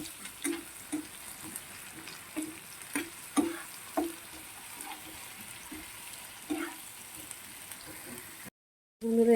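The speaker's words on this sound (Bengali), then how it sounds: "ভালো করে পেঁয়াজ আদা রসুনের পেস্টটাকে ভালো করে ভাজতে হবে" Onion, ginger and garlic paste frying in a pan for a pomfret fish recipe, a steady close sizzle broken by repeated scraping stirs of a spoon, with no talking.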